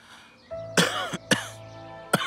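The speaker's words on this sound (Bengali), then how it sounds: "হঠাৎ কাশি চলে এসেছে।" A man coughs suddenly indoors: three sharp, loud coughs spaced unevenly over about two seconds, close to the listener, with a quiet room tone between them.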